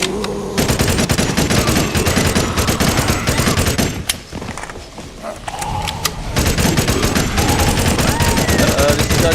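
Rapid bursts of assault rifle fire in an HTC Vive virtual reality game, loud and close, rattling in long automatic strings with a brief lull midway before shooting resumes, a voice occasionally heard under it.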